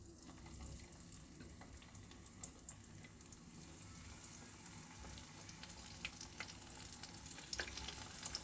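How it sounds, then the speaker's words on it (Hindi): Tandoori chicken fries in hot oil over medium heat, giving a steady, close, crackling sizzle with soft bubbling that runs unbroken throughout, with no talking. "मीडियम आंच पर तंदूरी चिकन को फ्राई करेंगे।"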